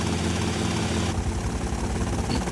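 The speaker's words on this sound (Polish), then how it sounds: "Dobra, helikopter do nas. Leci." Helicopter in the game GTA Vice City arriving overhead, a steady loud rotor and engine drone with low thumping that holds throughout.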